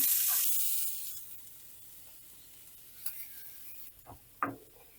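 Hissing sizzle of a chopped onion frying in 100 ml of hot oil in a pan, loud at first then settling to a steady crackle, with a few clinks and scrapes of stirring.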